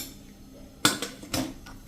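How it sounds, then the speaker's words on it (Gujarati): A pressure cooker lid is shut over potatoes, salt and turmeric, making two distinct metallic clanks about half a second apart, close and fairly loud in a quiet kitchen. "અને કુકરનું ઢાંકણ બંધ કરી"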